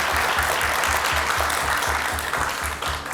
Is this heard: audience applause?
yes